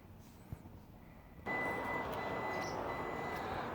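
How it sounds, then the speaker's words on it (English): Steady electronic warning buzzer from a van's electric step, switching on abruptly partway through and holding a continuous tone with a broad hum, no talking. "Your electric step in this van has a buzzer."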